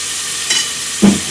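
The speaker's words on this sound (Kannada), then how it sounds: "ಎಣ್ಣೆ ಕಾಯ್ಡು ನೀರುಳ್ಳಿ ಫ್ರೈ ಮಾಡ್ತದೆ." Onions frying in hot oil for a Mangalore-style chicken curry, a steady broad sizzle with a brief stir or scrape near the end, close and alone.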